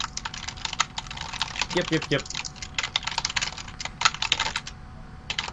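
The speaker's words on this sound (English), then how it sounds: "Thank you for being the typing person." Rapid clicking of keys on a computer keyboard goes on steadily, close and clear, with a brief voice murmuring partway through.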